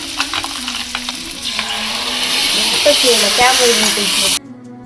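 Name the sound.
ground masala frying in pan for methi seed gravy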